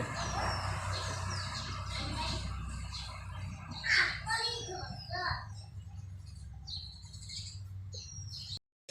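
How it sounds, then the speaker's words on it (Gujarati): Pigeons and other birds chirp and flutter nearby while feeding on grain, in scattered bursts over low background hum, with faint voices in the distance. "કબૂતરા આવી છે દાણા ખાવા માટે"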